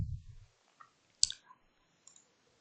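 Computer mouse clicking, a single sharp close click followed by a couple of faint lighter clicks in an otherwise quiet room, with a low muffled thump at the start.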